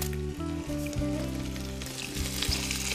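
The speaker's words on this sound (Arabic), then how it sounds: "يتحمر الطحين اللي عندنا" Flour frying in plain oil in a pan as the base for a béchamel sauce, a steady close sizzle with occasional stirring scrapes and no talk.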